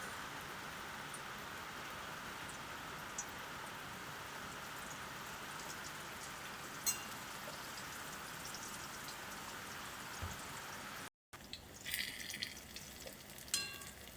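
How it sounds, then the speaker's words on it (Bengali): Okra fritters coated in gram flour and a little wheat flour sizzle steadily in hot oil, a soft continuous crackle like light rain with occasional pops, quiet and close, without talk. "ভেন্ডিগুলোকে তেলে ছেড়ে দেবো।"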